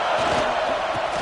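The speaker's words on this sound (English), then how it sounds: "this crowd imploring its defense to stand firm" A packed University of Georgia football stadium crowd roars for its defense in the red zone, a loud, sustained, dense wall of cheering and yelling with no break.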